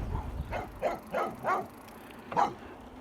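Small dog on a lead barking in a quiet country lane, four sharp yaps in quick succession, then a pause and one more bark, close and fairly loud.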